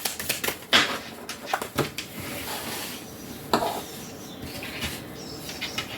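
Tarot cards are drawn and handled at close range, giving soft papery flicks, slides and a few sharp snaps, scattered irregularly over a quiet background with no talking.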